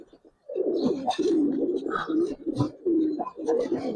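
Giribaz pigeons coo in a loft, throaty bursts rising and falling close by, with short pauses between them.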